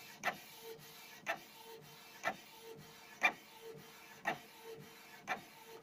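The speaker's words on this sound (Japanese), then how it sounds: "印刷の速度はそんなに速くないですね" A cheap 1080-yen printer prints steadily, its head giving a sharp clack about once a second with faint rubbing and whirring between, close and alone without voices.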